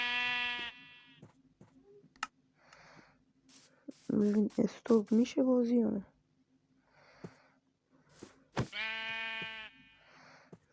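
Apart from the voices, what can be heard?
sheep bleating in video game Minecraft Bedrock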